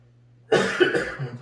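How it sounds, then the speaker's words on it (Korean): A single close cough from a preacher during a Sunday morning church service, a short burst with a second harsh push, over a faint hum. "기침이 나오네요."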